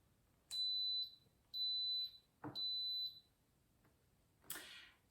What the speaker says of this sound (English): it'll beep here in just a second that it's going to start cooking